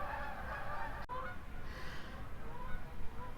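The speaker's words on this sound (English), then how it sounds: "I just had a flock of geese fly over" Geese honk repeatedly overhead in a ragged chorus, fairly distant, over steady outdoor background noise.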